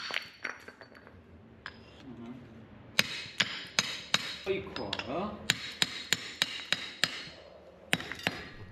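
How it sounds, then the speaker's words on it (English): Sharp hammer blows and chipping strikes on stone being shaped into a smooth, even table base, landing in an irregular run of loud, ringing clinks that speed up in the second half, near and with no talk. "We cut, chip, and hammer the stone until the base becomes smooth and even."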